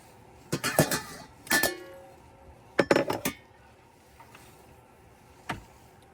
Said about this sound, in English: As you can see, they stack well,